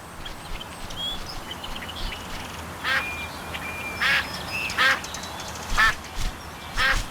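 Ducks quacking in a Duck Dynasty hunting video game, a series of about five clear quacks spaced a second or so apart over a low steady background hum.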